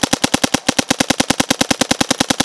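An HPA airsoft gun fires in a rapid, steady full-auto burst of about two dozen sharp, evenly spaced cracks, loud and close, with no talking over it.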